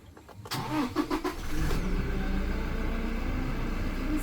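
A 2016 Toyota Innova Crysta 2.4 diesel engine cranks briefly, then catches and settles into a steady, rumbling idle close by.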